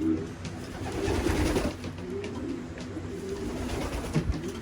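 Young pigeons in a breeding loft coo softly in low, murmuring bursts against a steady background hum, with a voice speaking faintly at moments.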